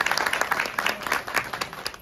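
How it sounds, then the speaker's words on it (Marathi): Audience applauding at a gathering celebrating the newly opened Swami Samarth Bhavan in Pithapuram, a dense patter of many hands clapping steadily at moderate distance with no voices on top. "त्यासाठी एकदा जोरदार टाळ्या."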